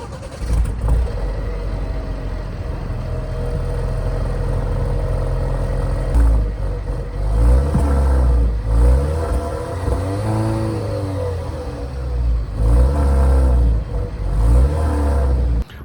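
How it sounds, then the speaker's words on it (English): A base Alfa Romeo Giulia with a 4-cylinder turbo engine, heard close up in several rising and falling revs over a low idle, each burst climbing and dropping in pitch. "that exhaust note, I mean, it's not the most impressive, but this is a 4-cylinder turbo"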